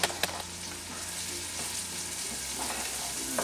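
Chopped onion and garlic frying in a pot, a steady close sizzle with a few sharp clicks at the start, continuing alone without talk.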